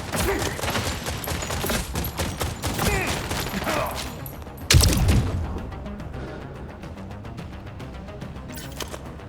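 Rapid automatic gunfire rattles in a firefight in The Expanse: Osiris Reborn, followed by a single loud blast, after which the shooting thins out into sparse, fainter shots.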